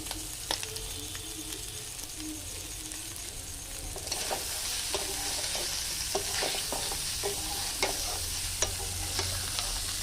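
Pork sizzles and crackles in its own rendered pork fat while being stirred, a steady close frying hiss with scraping stir sounds that grows louder and denser about midway through.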